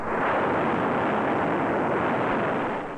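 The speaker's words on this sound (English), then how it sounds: "This controlled explosion is sustained evenly by constant propellant flow rates." A Saturn rocket engine firing, its controlled explosion in the thrust chamber fed by pumped fuel and oxidizer: a dense, unbroken roar of loud broadband noise that holds steady, then eases slightly at the very end.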